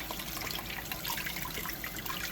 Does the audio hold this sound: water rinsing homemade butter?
yes